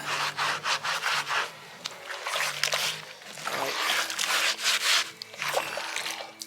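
A Scotch-Brite pad scrubs a moldy outdoor fountain basin in quick, rhythmic back-and-forth strokes, close and gritty, with short pauses between bursts.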